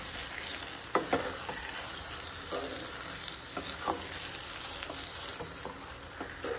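Sweet potato halwa mixture with cardamom powder gets stirred in a pan, a spoon scraping and tapping now and then over a low, steady sizzle and hiss, close by with no voices.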